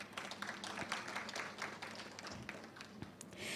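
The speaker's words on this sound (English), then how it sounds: "Please applaud them again." Audience applause at a civil service awards ceremony, a steady wash of clapping from a room of guests, moderately distant and fairly even throughout.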